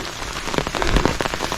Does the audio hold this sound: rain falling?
yes